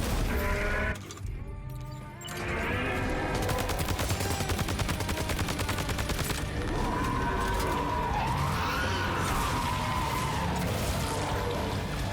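Grenade blasts and gunfire in the video game Death Stranding 2: dense, loud rapid shots and bursts with an explosion early on and wailing siren-like tones layered under the combat.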